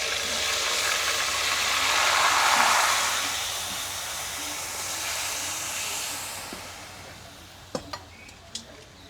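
Onion and coconut paste sizzling in hot oil on a wood-fired stove, a steady loud hiss that swells and eases, with a few sharp clinks near the end.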